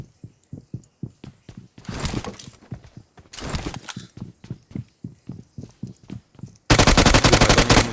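Gunfire sounds in the PUBG Mobile video game, with rhythmic footstep-like thuds under bursts of loud automatic rifle fire coming from above, ending in a sustained, very loud close burst.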